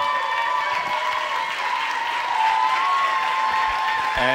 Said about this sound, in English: applause for Sheila!